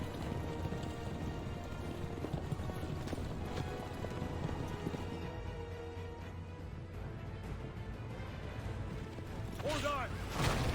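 Horse-drawn carriages clatter past in Assassin's Creed Revelations, with steady hoof clip-clops and rolling wheels under game music and ambient noise, rising in intensity toward the end.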